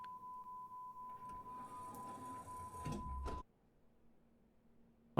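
Subway train doors closing in the SubwaySim Hamburg game: a steady warning tone and mechanical rumble build for about three seconds, then end in a sharp thud as the doors shut, leaving a quiet hum.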